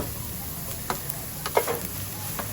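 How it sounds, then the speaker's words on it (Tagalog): Onions and garlic sauté in oil or butter with a steady, close sizzle and a few soft clicks and scrapes of stirring. No speech. "Saute the onions until it turns translucent. Then add the garlic."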